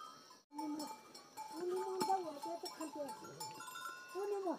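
A herd of goats in a Garhwali village bleat repeatedly at close range, their wavering cries overlapping amid a faint clank that sounds like a bell. Someone talks over them.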